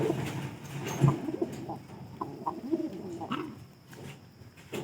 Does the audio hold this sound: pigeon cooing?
yes